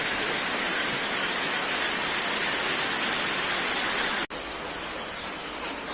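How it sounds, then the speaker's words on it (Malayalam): Heavy rain pours at a temple stage, a loud, unbroken roar of water on surfaces that holds steady throughout, with one brief dropout near the end and no talk. "നല്ല മഴ ഇവിടെ പെയ്തുകൊണ്ടിരിക്കുകയാണ്"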